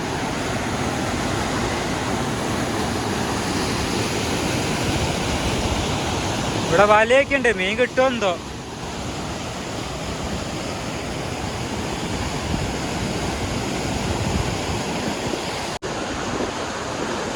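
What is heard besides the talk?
river water flowing strongly over rocks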